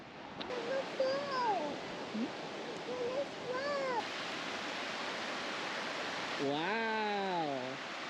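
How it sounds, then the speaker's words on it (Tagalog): A waterfall on a hiking trail in Canmore, Alberta rushes as a steady broadband roar while family voices call out and exclaim over it. "Falls!"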